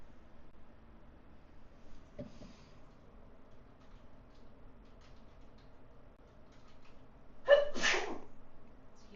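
One sharp human sneeze bursts out near the end of an otherwise quiet indoor scene, preceded by a faint small sound earlier.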